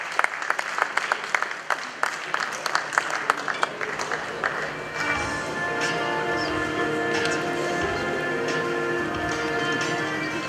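At the 29th GJA Media Awards ceremony, an audience claps in welcome for the Mayor of Kumasi, with crisp, busy clapping for about five seconds before it gives way to a steady, sustained musical backdrop.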